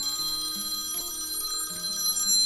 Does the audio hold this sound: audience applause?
no